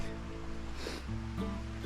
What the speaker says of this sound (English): I'm sitting by this little creek